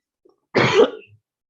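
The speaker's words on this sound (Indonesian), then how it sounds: "Saya batuk-batuk." A man who is ill with COVID gives a single harsh, close cough that lasts about half a second, alone against silence.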